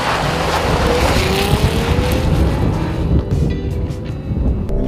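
A Lexus GX 460 SUV accelerates hard, its engine roaring loudly and steadily up through the revs with a rising pitch, heard close with no talking.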